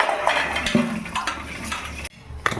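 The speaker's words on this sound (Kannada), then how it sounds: "ಇಲ್ಲಿ ನಮ್ಮಮ್ಮ ಪಾತ್ರೆ ತೊಳಿತಿದೆ" Dishes and pots being washed by hand: scattered metallic clinks and knocks of cookware over running water and sink noise, with a brief dip in sound near the end.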